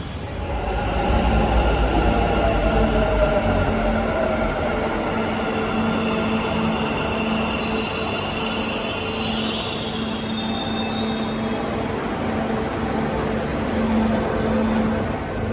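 Bengaluru metro train riding along, a steady close rumble of wheels and car with sustained tonal squeal and hum throughout, no talk.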